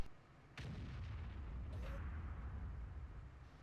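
Artillery shell striking an IS-7 tank in World of Tanks, a heavy booming impact with a rumbling low-end roar that lingers over several seconds, loud and close with no talk over it.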